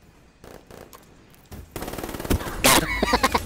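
Gunfire in the video game Black Ops III, with a few light shots at first, then a rapid burst of loud cracks and a sharp blast that sound close and dense.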